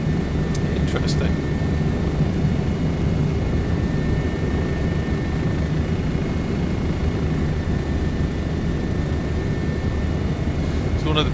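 A Bo 105 helicopter flies in Microsoft Flight Simulator 2024 over Niagara Falls, with a steady, loud rotor and engine drone that holds evenly from start to finish.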